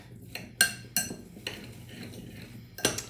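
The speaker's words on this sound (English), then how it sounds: "we'll get a spoon. And we're just gonna mix that all up" A spoon mixes blueberry crumble bar ingredients in a bowl, giving sharp, irregular clinks and scrapes against the bowl, with quieter stirring in between.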